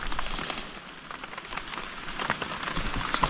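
Rain falling steadily in Muang Sam Tai, Houaphanh province, Laos, a dense continuous patter on surfaces close by, fairly loud and even throughout with no talk.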